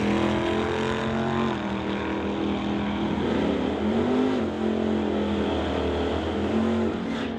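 A 1969 Plymouth Barracuda drag racing down a quarter-mile strip at an outlaw shootout, its engine roaring loud and sustained with a steady high tone and slight pitch shifts as it pulls through the run.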